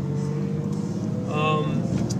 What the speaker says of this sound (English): I hope you can hear the engine. It's kind of got a very unique sound.